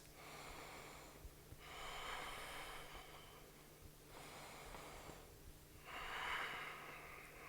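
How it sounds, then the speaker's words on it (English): A person in a yoga pose takes two slow, deep breaths, each a soft, breathy rush of air rising and fading, with quiet pauses between them and no talking. "Take 2 breaths."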